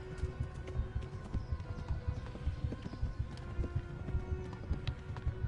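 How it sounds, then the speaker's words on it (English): Horse hooves clip-clopping at a run in the medieval video game Kingdom Come Deliverance, a steady stream of thudding hoofbeats over continuous outdoor game ambience with no voices. "Now the horse is turning."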